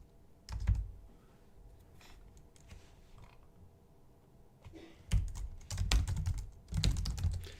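Quiet keyboard typing during a live competitive programming session, with bursts of clicky keystrokes that pick up and get denser toward the end and sparse taps between them.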